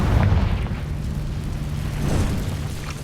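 A Confringo fire spell explodes in the Hogwarts Legacy video game with a loud, sustained low boom and rumble. A second swell follows midway, with no speech.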